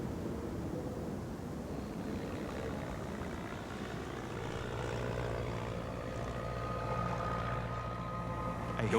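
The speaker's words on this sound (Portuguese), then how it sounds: "Eu ouço um avião." Propeller airplane droning steadily overhead at sea, a low continuous hum that swells slightly louder toward the end, with no talk.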